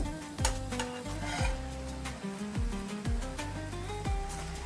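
Maggi noodles tossed with lettuce and Maggi masala sizzle loudly in a hot pan while a utensil stirs them. Repeated scraping strokes ride over a continuous frying hiss, close up and with no talking.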